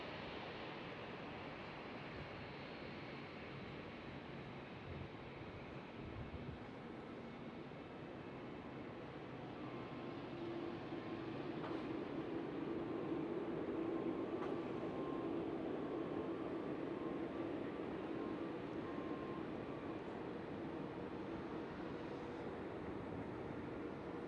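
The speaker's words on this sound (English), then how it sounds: "There goes the Ryanair 737." A Ryanair Boeing 737 jet passes at Schiphol airport in Amsterdam, a steady distant engine roar that slowly swells louder and then holds as a broad rushing drone, with no voices.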